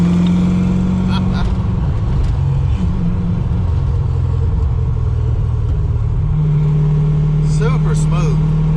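A car with a newly fitted Trick Flow top end kit pulls hard from inside the cabin, its loud, low engine drone holding steady then stepping up in pitch, while people talk over it.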